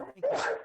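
Someone at a tabletop role-playing game session sneezes once, a short sharp burst lasting under a second, close to the microphone.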